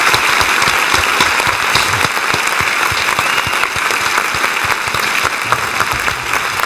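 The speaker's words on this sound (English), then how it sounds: "Let's give applause to all the moms" An audience applauding for mothers, a dense, loud and steady clapping that keeps up for several seconds without a break.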